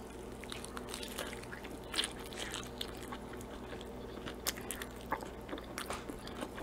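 Someone chewing and biting into bread with an overdone top crust, giving soft, close mouth sounds with a few sharper crunchy bites over a low steady background hum.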